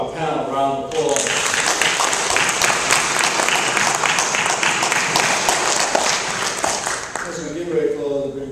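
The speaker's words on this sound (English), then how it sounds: "let's give our panel a round of applause" An audience applauds a panel: loud, sustained clapping from a crowd starts abruptly after a brief spoken line and fades as a voice returns near the end.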